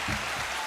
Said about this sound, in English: I'm giving you the applause button right now.